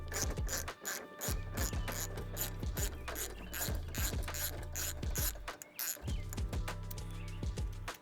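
A hand ratchet backs out screws holding the front plastic trim piece on a 4th-gen Toyota 4Runner during a front bumper build: close, rapid ratcheting clicks in repeated bursts with short pauses between strokes.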